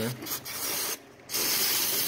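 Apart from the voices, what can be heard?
brake cleaner spray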